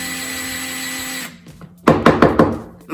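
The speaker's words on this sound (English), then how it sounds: "Now we just drill our hole right in the center." Power drill boring into a wooden leg of a DIY tufted bench, heard as a brief run of loud, close whirring with several sharp bursts after a quieter hum.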